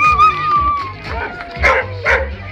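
Dogs at a dog competition in Riga bark and yip repeatedly, loud and close, with a voice speaking nearby.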